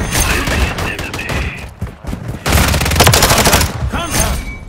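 Rapid video game gunfire, loud close bursts of automatic shots crackling almost nonstop with a brief lull midway, mixed with game radio voices speaking over the shooting.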